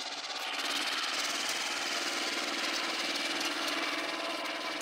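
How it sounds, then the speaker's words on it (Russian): A mini tractor engine runs steadily while pulling four hay rakes during haymaking, giving a continuous close, loud, rough mechanical drone that holds level for the whole stretch with no talk over it. "Мини-тракторет 4 штуки потянув без проблем всяких."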